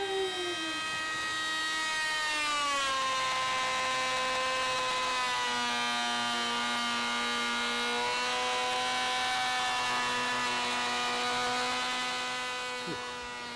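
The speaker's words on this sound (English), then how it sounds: "grab that power planer that we modified like a year and a half ago now, and use that to back out. More power planing!" A modified power planer with a curved blade cuts along an oak shutter plank, a loud sustained motor whine that dips in pitch under load as it bites, running steadily close by.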